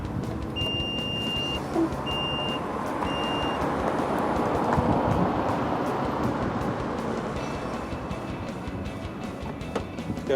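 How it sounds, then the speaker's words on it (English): The powered tailgate of a 2015 Mitsubishi Outlander VRX 2.4L petrol 4WD gives three short, clear beeps in quick succession, followed by a continuous low hum and broadband background noise. "This model has the powered tailgate."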